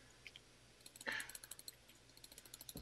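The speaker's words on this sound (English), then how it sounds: "It sounds like you're clicking something." Rapid computer mouse and keyboard clicking during a Bloons TD Battles game, a quick irregular run of faint, close clicks and taps that speeds up toward the end, with no talk.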